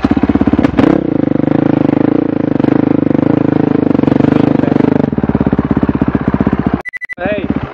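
A motocross bike's engine barks to life and settles into a loud, close, chugging idle with rapid rhythmic firing pulses, then blips and revs sharply near the end before dropping back.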